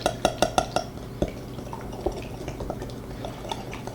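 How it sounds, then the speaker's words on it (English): Eggs being beaten for gluten-free pasta dough, a quick run of four or five rhythmic whisk clicks against the bowl, then a few scattered taps and soft stirring sounds at close range. "we're going to beat these eggs a little bit together"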